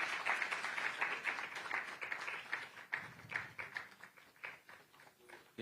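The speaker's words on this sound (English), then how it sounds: "Please, Ambassador, please, a big round of applause" Applause from an audience at a conference for an ambassador, a faint, fairly distant patter of scattered hand claps that swells and thins with no voices over it.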